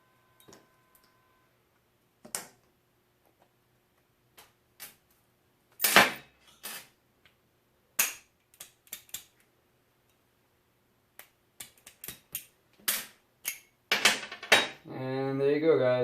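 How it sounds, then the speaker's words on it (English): A suppressed Alpha 308 rifle bolt carrier gets its pin popped out during cleaning, giving sparse sharp metallic clicks and taps spread out with quiet gaps, then a brief cluster of rattling near the end. "let's go ahead and pop that pin out"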